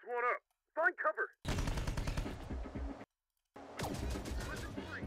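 Rapid bursts of machine-gun fire from the video game Terminator: Dark Fate – Defiance rattle loudly in two sustained volleys split by a short gap, with a few brief voice fragments just before.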